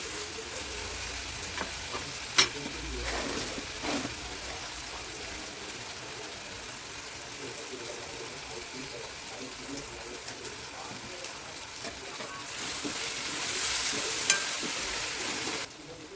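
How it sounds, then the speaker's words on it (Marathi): Tomatoes and masala sizzle steadily in oil in a pan for egg masala, a continuous frying hiss with occasional scraping stirs and light taps throughout, no voices. "मसाला फ्राय झाला आहे मसाल्यातून तेल बाहेर येते"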